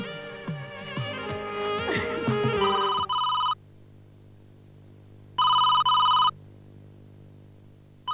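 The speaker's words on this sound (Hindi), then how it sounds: "ये जरूर जय का ही फोन होगा।" A telephone bell rings in two bursts separated by a pause, following a stretch of busy background music; the rings are loud and close.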